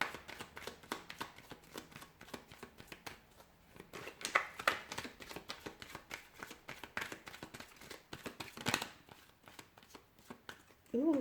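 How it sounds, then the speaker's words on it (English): Tarot cards are shuffled again and again in quick, papery riffles and taps, close and fairly quiet. "give the cards a shuffle"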